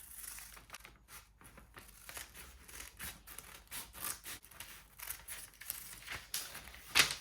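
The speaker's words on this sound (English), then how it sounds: "Then we are going to cut the bottom" Scissors snipping through the bottom edge of a fabric flutter sleeve, a series of quiet, close crisp cuts with faint rustling of cloth between them.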